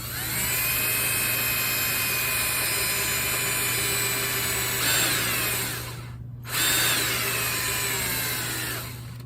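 Power drill boring out the Berdan primer pocket of .303 British brass case, a loud steady high-pitched whine with a low motor hum beneath, briefly cutting out near the end before spinning up again.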